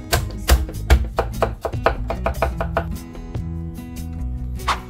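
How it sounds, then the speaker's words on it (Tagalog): Onion and garlic being chopped with a knife on a cutting board for pancit, a quick series of close, crisp knocks in an uneven rhythm, with no talking. "Una, hiwa lang tayo ng sibuyas, 5 pirasong bawang"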